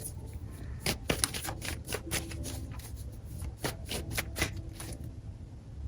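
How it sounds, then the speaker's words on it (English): Tarot cards shuffled by hand, a run of crisp riffling and snapping bursts in quick uneven succession, close and fairly loud, with no voices. "I'm going to shuffle these back in"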